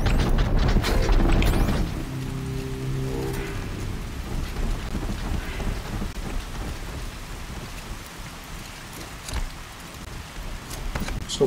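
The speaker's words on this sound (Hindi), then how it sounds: "अरे बारिश बंद हो जाए तो काम बन जाए यार।" Storm ambience in the video game Horizon Zero Dawn: a heavy, loud thunder rumble opens, then dense steady rain hisses and patters throughout, with scattered sharper drops and faint mechanical sounds underneath.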